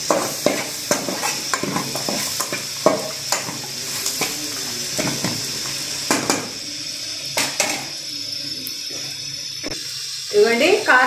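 Mutton with chili powder fries on a medium flame, a steady loud sizzle broken by frequent scraping and clinking stirs of a spoon against the pan, with a brief louder burst of frying near the end.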